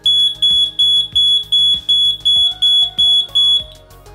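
An Ajax security alarm siren sounds at full volume in a test, giving loud, regular high-pitched pulsed beeps, roughly two per second, with no talking.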